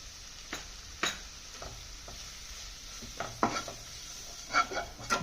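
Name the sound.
stirring mushroom masala with spice powders in pan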